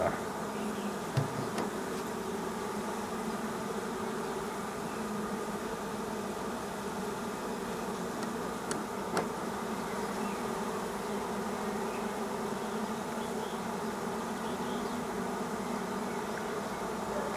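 A honey bee swarm drones in a steady, dense buzz that fills the whole stretch, with a few individual bees zipping closer by now and then and no voices.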